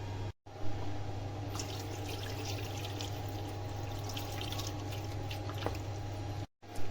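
Soaking water is drained off lentils, a quiet steady pouring trickle with scattered drips, heard alone without speech.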